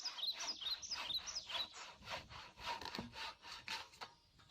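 Hand sawing through a log to trim it to length at an off-grid cabin build in the woods, with steady rhythmic back-and-forth strokes throughout and birds chirping faintly in the background.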